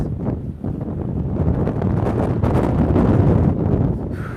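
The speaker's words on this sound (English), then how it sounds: "It's windy." Strong, continuous wind buffeting the microphone on a street outside in Asakusabashi, Tokyo, a steady low roar that swells and gusts for the whole stretch with no speech over it.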